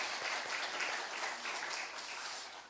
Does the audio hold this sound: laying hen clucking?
no